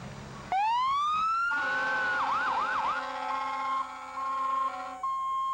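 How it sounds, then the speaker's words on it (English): A red Bloomingdale Volunteer Fire Department fire truck in the 1998 Kingsport Fun Fest Parade sounds its siren: a rising wail, a few quick yelps, then steady horn-like tones, loud and close with no talk. "That would be a loud red fire truck from Bloomingdale Volunteer Fire Department."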